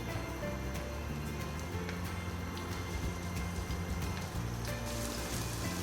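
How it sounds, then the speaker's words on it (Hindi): Shami kababs sizzle steadily in hot ghee, a constant crackling fry that stays level and moderately quiet throughout, with faint clicks over the top. "जैसे घी गर्म होगा इसके अंदर ऐसे डिप करके हल्के हाथ से डाल दें।"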